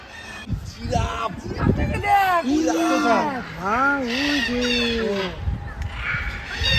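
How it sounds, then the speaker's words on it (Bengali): Geese (called swans) honking at a zoo, a run of loud, close, wavering nasal calls that rise and fall over several seconds, with people chatting and a voice underneath. "আর ওই পাশে রাজহাঁস"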